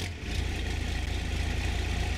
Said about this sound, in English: Let's go ahead and fire this thing up because this has that Cummins engine in it and it sounds so good.